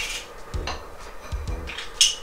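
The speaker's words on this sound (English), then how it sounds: "you can use a garlic smasher and then just gonna smash this in here" A garlic smasher crushes garlic in a home kitchen, giving a few short, close metallic clunks and squeezes spaced unevenly across a couple of seconds.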